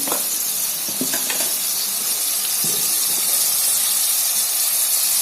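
Spices sauté in hot oil in a pan as turmeric and other masala are stirred in for a pumpkin dal, giving a steady close sizzle and hiss with a few soft scraping clicks of a spoon and no speech.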